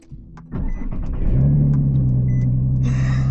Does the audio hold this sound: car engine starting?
yes